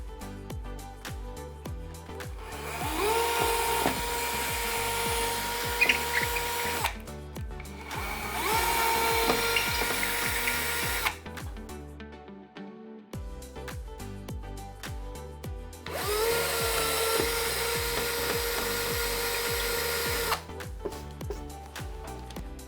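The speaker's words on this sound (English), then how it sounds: "I've got my cordless drill all charged up and ready to go" A cordless power drill whines in three long bursts separated by short pauses, grinding loudly as it bores into a masonry wall.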